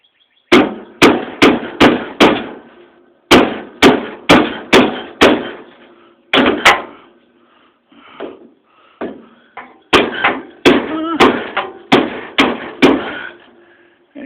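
Loud, sharp hammer blows beat on the welded metal body panel of a 1973 Oldsmobile Omega being patched, coming in rapid bursts of four or five strikes separated by brief pauses, with some lighter scraping between the groups.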